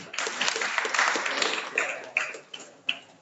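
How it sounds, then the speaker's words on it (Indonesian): Light applause from a small audience at a children's Quran recitation contest, a few seconds of scattered clapping that thins out into isolated claps. "Tepuk tangannya mana?"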